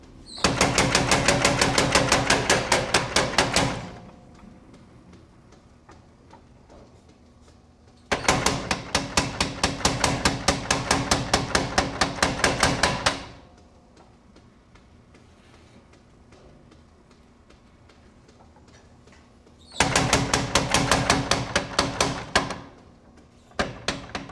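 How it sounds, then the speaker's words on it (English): Bursts of rapid, hard hammer blows with a hammer, three loud runs of fast repeated strikes lasting several seconds each, separated by quieter pauses with faint background noise. "So we don't have quite a big enough hammer."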